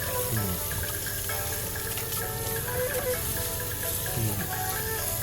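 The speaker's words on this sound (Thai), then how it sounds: "ล้างประมาณสามสี่น้ำจนมันหายเข้มครับ" Shellfish being rinsed in running water to wash out sand, a steady close splashing and trickling of tap water into a sink with faint clinking through the whole stretch, no talking.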